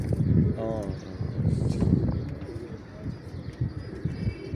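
Domestic pigeons in Imbaba, Egypt, coo softly amid a murmur of voices and background clatter, with a short burst of bird calls partway through.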